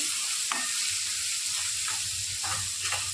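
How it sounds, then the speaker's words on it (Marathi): Soybean bhurji with onions is stirred in a hot pan: a dense, continuous sizzle with a few sharper scraping strokes of the spoon, close up and without voices. "हे आता हे चांगलं मिक्स करून घेऊयात आपण"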